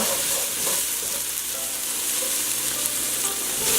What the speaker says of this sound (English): I'm just gonna let the onions get nice and soft, but I am scraping up those brown bits off the bottom